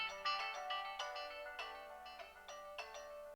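Telephone ringtone from the video game GTA 5 rings out in a repeating melodic pattern of bright, chiming notes, alone at moderate volume with no voices.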